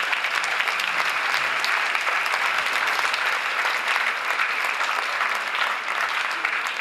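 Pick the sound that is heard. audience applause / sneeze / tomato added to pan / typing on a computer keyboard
audience applause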